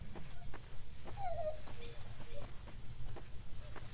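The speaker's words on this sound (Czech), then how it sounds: "Cože pes? Pěsik." A dog met outdoors gives soft, high whimpers and a short whine, fairly faint against a steady background hiss, with no talking over it.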